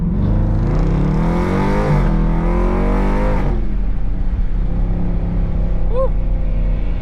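At a car meet, a Dodge SRT launches with a loud exhaust that roars up through a rising rev, then settles into a heavy, droning rumble, close and dominant throughout.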